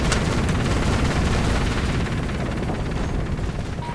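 Sustained battlefield gunfire in Operation Flashpoint: Red River rumbles on as a dense, steady wash of overlapping shots, loud and continuous throughout with no clear pauses.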